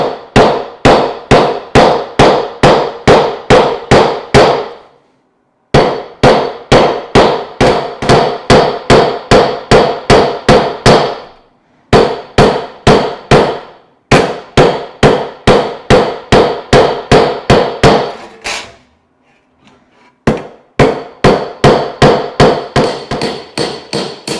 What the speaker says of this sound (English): continue to hammer and check